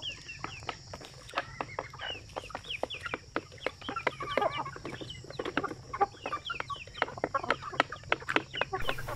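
Native chickens on a farm cluck in a dense stream of sharp, rapid calls, many birds overlapping at close range with a low steady hum underneath.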